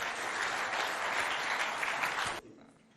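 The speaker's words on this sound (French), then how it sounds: "On les applaudit bien fort, s'il vous plaît." Students in the audience at a school quiz contest applaud the contestants, a dense burst of clapping lasting a little over two seconds that stops abruptly, leaving faint room noise.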